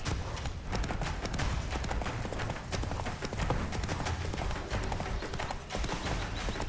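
Roach, a horse in The Witcher 3: Wild Hunt, gallops during a chase in the Skellige region, giving a rapid, continuous drumming of hoofbeats that stays loud and close without talk.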